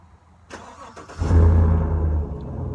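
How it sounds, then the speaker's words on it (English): A truck engine, tuned with a Diablosport InTune i3 programmer, cranks with a few brief starter clicks, then catches and settles into a loud, steady low rumble close by. "why don't we get the truck started? Start your engines."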